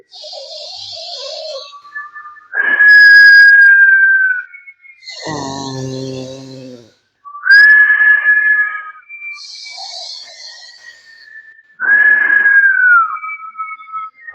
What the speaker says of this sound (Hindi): लेफ्ट से गहरी लंबी सांस लेना है और मुंह से छोड़ना है, सीटी बजाते।